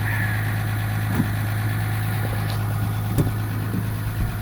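A cold EcoDiesel engine idles at around 1200 RPM, a loud, steady low rumble with a constant drone and occasional faint ticks and knocks, close by and uninterrupted by speech.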